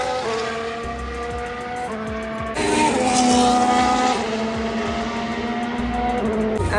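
Formula 1 race cars accelerating on a circuit at Abu Dhabi, a loud high-pitched engine whine rising and shifting through gears, heard from trackside with a crowd-like wash beneath.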